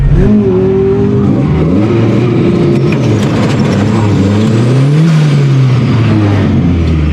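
A car pulls hard in fourth gear toward the rev limiter, its engine note climbing loud and close under constant strain, with the pitch rising and dipping through the run.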